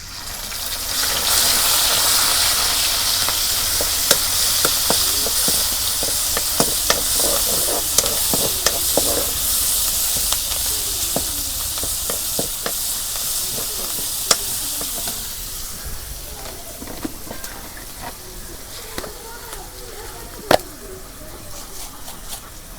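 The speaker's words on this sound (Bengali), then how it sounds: "তেল গরম হচ্ছে, এখন আমি পেঁয়াজ বাটা দিয়ে দেব।" Onion paste frying in hot oil in a pan for chicken curry, a steady loud sizzle with bursts of spitting and scattered stirring clicks, easing somewhat toward the end.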